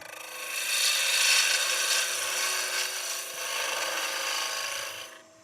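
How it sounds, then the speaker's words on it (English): A spindle gouge cuts a spinning wooden workpiece on a lathe, giving a close, steady scraping hiss that swells and eases as the tool rolls around, then stops abruptly. "spindle gouge just to roll it round"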